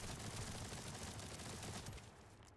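Rapid, dense gunfire from a sci-fi shooter video game, The First Descendant, a continuous loud burst of shots with no talking, tapering slightly at the end.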